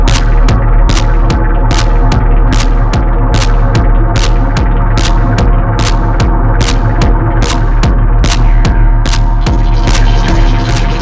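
An Ensoniq Fizmo synthesizer plays a loud, dense distorted drone with sharp clicking pulses repeating at an even, quick rhythm throughout.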